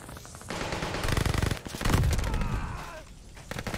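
Akimbo SMG fire in Call of Duty Vanguard on the Shipment map, dense rattling bursts and explosive thumps packed close together, with someone talking quietly over the chaotic gameplay.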